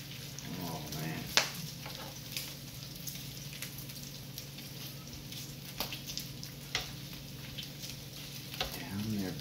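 Strips of bacon fry in a hot pan while cooking breakfast, giving a steady, close crackling sizzle with scattered sharper pops throughout, and a voice speaks faintly at moments.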